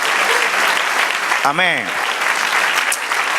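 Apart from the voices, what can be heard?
congregation applauding in church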